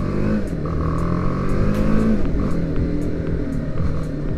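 A BMW G310R motorcycle is ridden through curves. Its engine gives a loud, steady drone from up close, with the pitch rising and falling as the rider changes speed through the bends.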